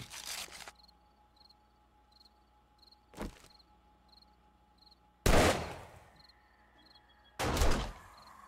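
Turret gunfire in 7 Days to Die, a few loud, widely spaced shots against a quiet backdrop of steady cricket chirps.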